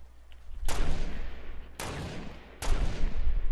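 Gunfire sprayed at a wall in Fortnite, three sharp loud bursts each trailing into a noisy decay, with no talk over them.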